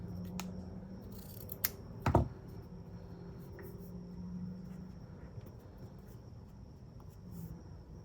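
Scissors snip through a paper label in a few quiet, close cuts, with one sharper snip near the middle against a soft room hiss.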